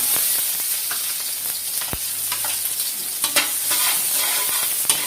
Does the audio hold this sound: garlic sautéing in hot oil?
yes